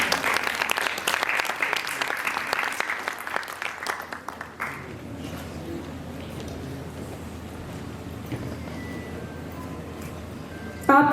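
An audience applauds a prize winner at a philatelic stamp exhibition award ceremony, dense crowd clapping for about four and a half seconds before abruptly dying away into quiet room noise.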